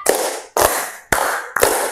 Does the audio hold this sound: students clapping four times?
yes